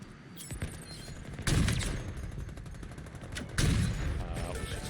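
Gunfire in a Halo Infinite Big Team Battle match comes as two heavy, booming bursts about two seconds apart. Quieter rattling shots sit between them.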